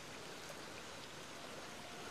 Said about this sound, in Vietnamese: Này là mưa, này là lúc có mưa là nó ướt ra củi kia hết à?